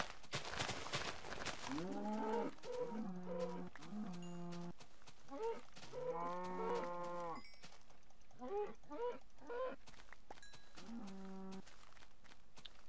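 Cows in the Minecraft video game moo repeatedly in drawn-out, tonal calls, with several overlapping moos at close range and some clicks from the game running between them.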